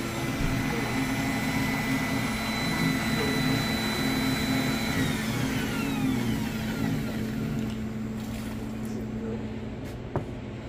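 A Dunkin Donuts hot chocolate machine runs with a steady mechanical hum and whirring drone, close and continuous, with a faint high tone that slides downward midway.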